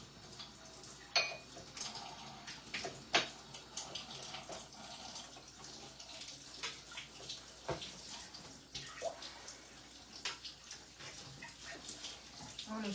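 Tap water running in a kitchen sink while hands are washed, heard as a soft, steady stream with faint splashes and occasional clinks, quiet and fairly close.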